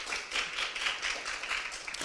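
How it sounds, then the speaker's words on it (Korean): Steady, fairly faint applause from an audience at a social-service investment exchange event, welcoming a speaker with continuous overlapping claps and no pauses. "큰 박수 부탁드립니다"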